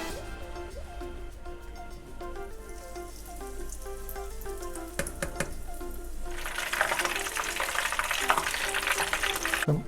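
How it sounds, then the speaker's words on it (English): Scotch egg deep-frying in hot oil, a steady bubbling sizzle that grows louder and denser partway through, with some clinking and background music throughout. "Our oil is hot, so I'll fry out the nest now. So our nest is ready. Now I'll fry the Scotch egg."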